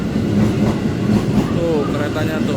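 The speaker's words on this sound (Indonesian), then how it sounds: "Tuh keretanya tuh." A commuter train rolling into a small station with a steady loud rumble and rhythmic clickety-clack of wheels on rail joints, close by, with a faint squeal.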